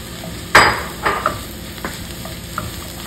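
Mushrooms tipped into a pan of softened onions for beef stroganoff hit with a sharp burst of sizzle, followed by a few stirring scrapes and soft crackles as the frying settles into a steady low hiss.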